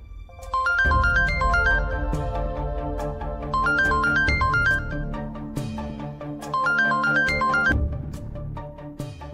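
A melodic electronic phone ringtone plays loudly and repeatedly, its chiming pattern cycling three times with no voices.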